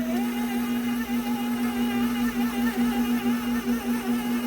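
An electric mixer beating butter and cream cheese for a keto rum cake batter, a steady close motor hum with a constant whirring drone and faint wobble, heard alone without talk.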